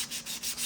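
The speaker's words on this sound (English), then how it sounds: "Little sandpaper here, you know, a couple of quick swipes." Sandpaper rubs along the CNC-cut edges of a wooden bookshelf piece in two or three quick, close, rasping swipes, with no talking.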